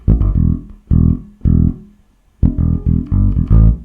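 The bass line is played alone: loud, punchy low notes in short repeated groups, with a clear pause midway before the riff comes back.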